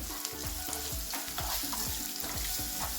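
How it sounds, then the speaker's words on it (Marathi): Finely chopped onion is sautéed in oil, with a rapid, regular series of stirring scrapes over a steady sizzle, close and fairly quiet, no talking. "बारीक केलेला कांदा घालून घ्यायचा आहे आणि हा छानपैकी रंग बदलेपर्यंत आपल्याला परतून घ्यायचा आहे व्यवस्थित।"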